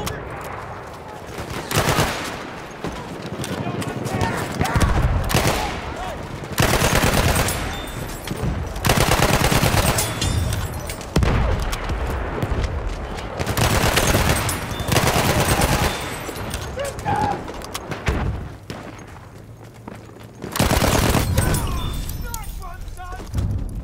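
Battlefield 1 gunfire in a dense battle: sustained machine-gun bursts and rifle shots crackle almost continuously, loud and near, with distant booms and voices shouting over the fighting.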